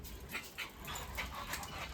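A dog behind a fence gives soft panting and faint whimpers, quiet and somewhat distant, with small scuffling noises throughout.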